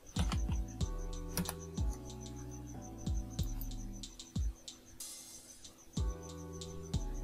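Keys tapped on a computer keyboard in scattered single presses and small bursts with pauses between, each click ringing slightly in a quiet room with a faint steady background hum and no talk.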